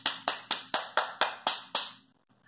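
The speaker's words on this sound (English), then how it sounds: "we're gonna clap our hands" Children clap their hands in a daycare fitness activity, seven even, sharp claps in a steady rhythm, close and loud, then silence.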